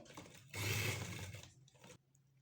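A sewing machine stitches a strip onto shirt lace, giving a short, quiet whirring run of about a second between softer handling noises, with no talking.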